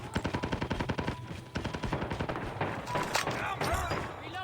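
Rapid automatic gunfire rattles through a Call of Duty match in long, dense bursts of sharp cracks, loud and close, with brief gaps between volleys.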